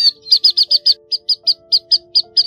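A chestnut munia's call plays as a trapping lure, a rapid run of about a dozen sharp, evenly spaced chirps, loud and close, over a faint thin whistle.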